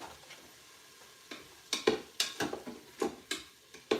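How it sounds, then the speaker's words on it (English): Spoon stirring onions sautéing in a pan, a series of sharp scraping clicks and taps at close range over a faint background sizzle, irregular and growing busier toward the end. "So now I'm going to get back on over here and stir."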